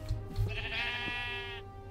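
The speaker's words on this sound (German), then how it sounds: "Aber wieso steht hier ein Schaf mit rosa Wolle rum?" A pink-wooled sheep in the video game Minecraft gives one drawn-out, wavering bleat, close and clear over a faint steady background hum.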